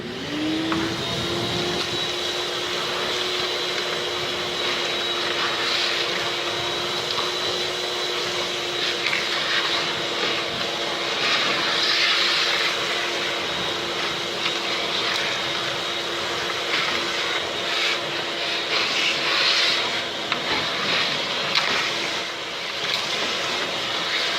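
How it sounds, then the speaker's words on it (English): A shop vac runs continuously during chimney cleaning, a loud steady whine and roar that starts up and holds for the whole stretch, with faint scraping and knocking on top and no speech. "Turn on my shop vac."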